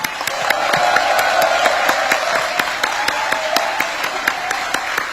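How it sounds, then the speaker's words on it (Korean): Sustained applause from a large audience welcoming visiting presidents at a formal Korean community event in the Philippines, dense steady clapping with individual sharp claps standing out, no speech. "여러분, 우리 다시 한번 대통령 네 분을 위해 뜨거운 환영의 박수 부탁드립니다"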